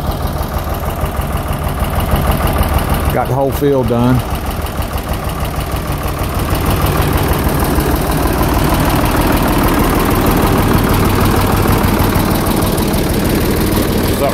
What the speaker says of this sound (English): Just wanted to listen to the tractor run under load.